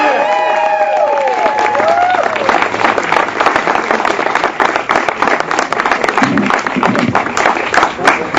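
Large crowd at a campaign launch for a district supervisor candidate applauding and cheering steadily, dense clapping throughout with whoops and shouts rising over it, close and loud.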